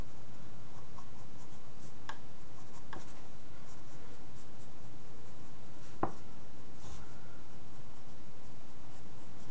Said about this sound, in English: So let's go ahead and draw some basic eyes.